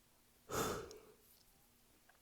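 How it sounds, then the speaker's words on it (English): A person's single close yawn, a breathy swelling exhale lasting about half a second and then trailing off, late at night while working on an AMT model kit of a 1941 Plymouth coupe. "Sorry, I yawn."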